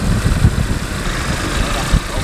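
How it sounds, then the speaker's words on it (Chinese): An old motorcycle engine runs with a steady low rumble, carrying a rider away from a windswept village, with a voice heard over the continuous drone. "一辆老旧的摩托车载着魏光才驶离了东荣村"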